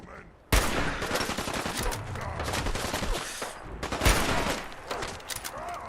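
Sustained volley of gunfire in the Fallout 4 Sim Settlements 2 game, loud and dense with overlapping shots and bursts, a sharp surge near the start and another around four seconds, fast crackling rhythm throughout.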